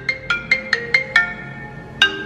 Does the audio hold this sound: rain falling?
no